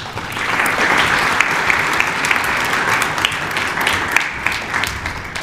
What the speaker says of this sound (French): je vous demande d'applaudir Robert.